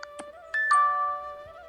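A funny notification ringtone from Zedge: a few short chime-like tones followed by a sustained bright electronic melody, clear and alone at moderate level.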